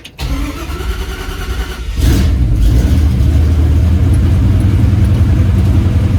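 A cab-over Chevy van conversion cranks and its engine catches after about two seconds, then settles into a loud, steady, close-up idle with a deep rumble.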